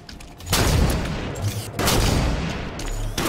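Sniper rifle shots ring out in a first-person shooter match: three loud, close, booming blasts in quick succession, each with a long rumbling tail that fills the short stretch.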